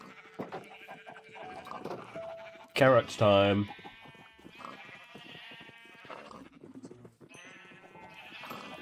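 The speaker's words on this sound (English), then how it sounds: "there's a lot of sheep already. We'll leave the sheep." Minecraft sheep bleat in a short loud burst partway through, among game clatter and other farm-animal noises, while someone talks over the scene.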